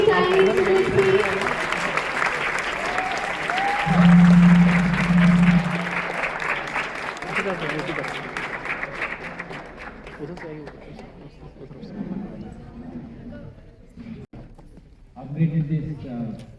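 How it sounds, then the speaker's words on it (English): Students in a planetarium audience give a loud, sustained round of applause for Group Captain Shubhanshu Shukla, with voices talking over it as it slowly fades. "Please welcome Group Captain Shri Shubhanshu Shukla ji with a huge round of applause"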